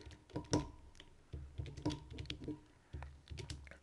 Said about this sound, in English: now we are ready to type in what we need to type in